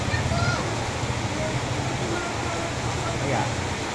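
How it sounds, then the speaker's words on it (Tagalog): Heavy rain pours down in a sudden downpour with thunder and lightning around, a steady dense wash of noise close by that does not let up. "Lakas ang ulan yan, oh."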